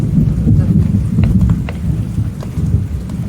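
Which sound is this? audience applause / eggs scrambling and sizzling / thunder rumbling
thunder rumbling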